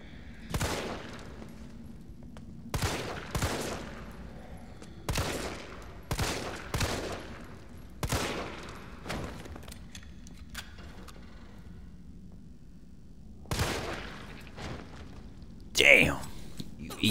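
Gunfire in Resident Evil 3 rings out as sharp, separate shots spaced a second or two apart, some fired in quick pairs, with someone talking between them.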